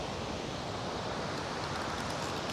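Rushing water of a waterfall seen from a jungle trail near a hanging bridge, a steady, dense roar of moderate loudness with no voices over it.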